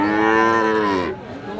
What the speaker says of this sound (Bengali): এখানে কিন্তু একটা কোয়ালিটি ফুল দেখতেছি আমরা বকনা বাছুর